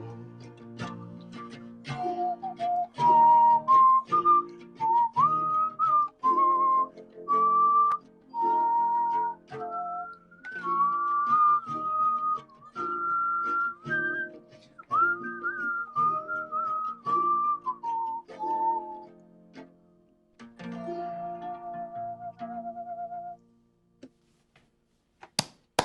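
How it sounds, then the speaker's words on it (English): Someone whistles a clear, melodic tune close by, phrases rising and falling with short breaths between, over quiet background sounds. "Oh, love a bit of whistling."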